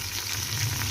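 Half a cup of water hits a hot pan of golden garlic, ginger and tomatoes for an arvi curry, giving a loud, close, continuous sizzle and bubbling hiss with no talking.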